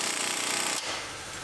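A power tool runs briefly, loud and close, tightening a ball joint nut on a 2019 GMC Sierra Denali HD, with a dense buzzing whir that drops off abruptly partway through.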